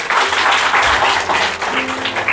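Loud, dense applause from a crowd, many hands clapping steadily with no pauses.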